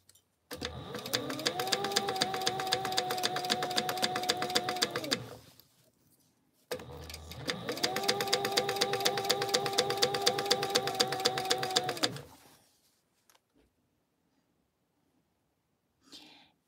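Sewing machine running at steady speed in two long stitching bursts of about five seconds each, with a short pause between them, loud and close, then quiet with a faint click near the end.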